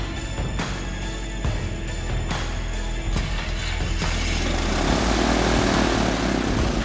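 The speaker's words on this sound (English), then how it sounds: "I love starting these old airplanes." Piper PA28-140 light airplane engine turning over and running, its propeller beating a loud, steady rumble close by that swells slightly toward the end.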